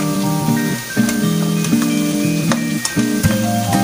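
Ground beef with carrots and potatoes sautés in a pan with a steady, loud sizzle, a strong tonal hum running underneath and occasional clicks of stirring, with no talking.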